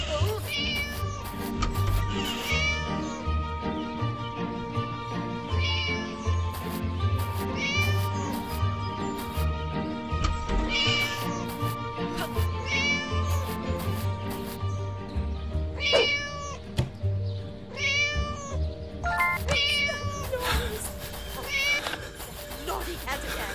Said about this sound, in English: Naughty cat again!